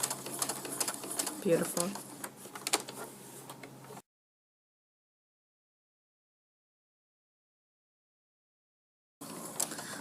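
A sewing machine stitches down quilt appliques with a busy, close whirring run under a talking voice for about four seconds, then falls silent before the stitching starts up again near the end.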